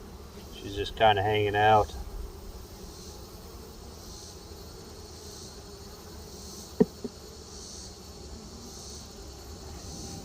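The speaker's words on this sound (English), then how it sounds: "I've got a bee in my veil." Honey bee buzzing inside a beekeeper's veil during a September hive check, a faint, steady insect hum close to the face. Someone speaks briefly near the start, and a sharp tap is heard later.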